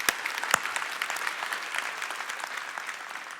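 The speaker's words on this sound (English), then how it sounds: "We can applaud that." An audience claps during a Father's Day sermon, with a couple of sharp, close claps at the start before the applause settles into a lighter, scattered patter that fades slightly.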